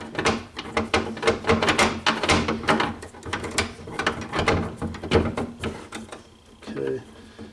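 A ratchet wrench tightens a bolt on a RIDE88 single bike mount, its pawl clicking in rapid repeated strokes up close for several seconds before a brief pause.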